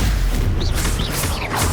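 A Stupefy stunning spell fired during Hogwarts Legacy combat comes through as heavy booming impacts and rushing whooshes, loud and steady throughout the short burst.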